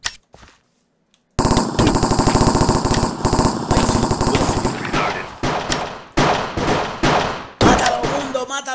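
MP5 submachine gun fire in Counter-Strike, a loud, rapid automatic burst running for several seconds after a short quiet start, then broken into choppier shorter bursts and single shots, with no talk over it.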